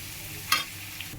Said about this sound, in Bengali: পেঁয়াজ কুচিগুলো দিয়ে দিয়েছি, এগুলো একটু লাল লাল হয়ে ভাজা হবে